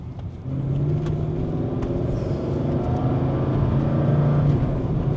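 Mercedes CLK55 AMG engine droning steadily while driving, a low, continuous rumble with slight rises in pitch that stays close and loud throughout.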